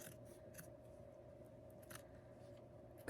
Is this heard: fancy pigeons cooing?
no